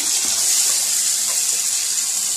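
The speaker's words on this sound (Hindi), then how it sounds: "अब मैं इनको जब मैं थोड़ा सा पानी ऐड करूँगी" Water pours from a tap into a pan of softened tomatoes and spices for a chicken kofta masala. The splashing stream is steady and close, with no talk over it.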